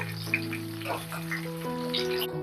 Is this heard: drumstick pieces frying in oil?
yes